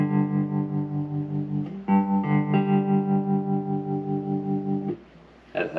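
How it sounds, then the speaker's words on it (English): A Fender Mustang LT25 amp on its metal lead preset gives heavily distorted electric guitar notes and chords, loud and sustained with audible effects processing, changing a couple of times before a short pause and one more strum. "metal lead is like a nice distortion effect there"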